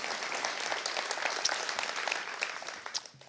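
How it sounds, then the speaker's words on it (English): Applause from the audience at a fall convocation faculty luncheon, dense and sustained clapping filling the room before it thins out toward the end. "Another round of applause for him."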